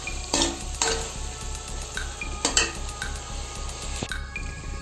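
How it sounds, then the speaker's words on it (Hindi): Beef bhuna keema with chillies is fried and stirred in a pot, a steady sizzle broken by several loud metal spoon clanks and scrapes against the pan, with no talking. "तो कीमा अच्छे से गल चुका है, अब बस इसे भूनना बाकी है।"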